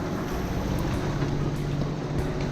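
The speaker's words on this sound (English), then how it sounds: "Engine's on because it's a little bit flat calm." A sailboat's engine running on a flat calm sea at sunset, giving a steady, close, low droning hum with wind and water noise mixed in and no voices.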